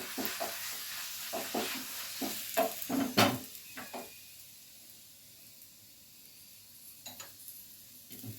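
Methi paratha frying in white oil on a pan, a soft continuous sizzle broken by a cluster of sharp scraping and spatula clicks, then quieter sizzling with a few more taps near the end.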